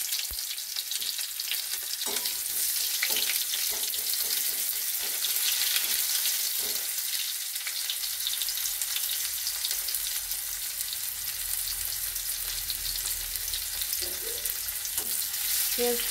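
Onions sizzle and crackle steadily in a hot pan while palong shak ghonto is being cooked, a continuous close frying hiss with occasional soft stirring clicks and no talk.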